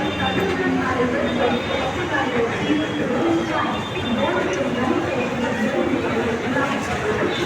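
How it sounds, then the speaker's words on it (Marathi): A commuter train pulls into a station in the early morning, a loud, constant rumble and rattle filling the whole stretch, with faint crowd chatter mixed underneath. "चला ट्रेन आली."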